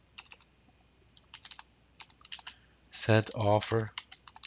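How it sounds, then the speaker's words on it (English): Keys clatter in short, quick bursts as notes are typed on a computer keyboard, close and clear, followed by someone speaking briefly near the end. "So what I do is I type in like this."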